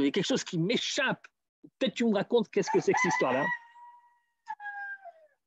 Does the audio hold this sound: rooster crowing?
yes